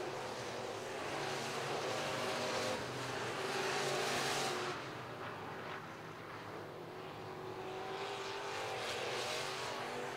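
Sport modified race cars at RPM Speedway roar around the oval in a continuous, loud engine drone that swells and fades as the pack passes, without voices in between.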